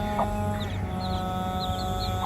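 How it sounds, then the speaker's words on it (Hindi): Chicks cheep beneath a brooding hen, a scatter of faint high peeps repeating over a steady background hum, without talk. "कितने चूजे हैं जी?"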